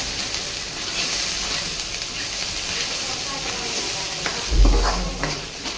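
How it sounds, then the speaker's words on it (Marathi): Masala spice paste fries in oil with a splash of water for a cowpea curry, making a continuous broad hiss and sizzle with a brief clatter of the pan near the end. "मसाला तळते चांगला."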